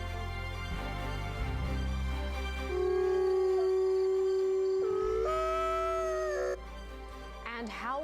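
Mexican gray wolves howl in long, rising and sustained tones, one howl held steadily before sliding upward, over a low background rumble, with another wavering howl near the end.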